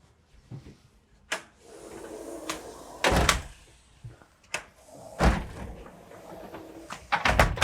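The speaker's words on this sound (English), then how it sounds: "close this tilting door" A tilting door on a Bali 5.2 catamaran swings shut, with several sharp knocks and thuds spread over a few seconds, fairly close, plus fainter rattles and shuffling between them.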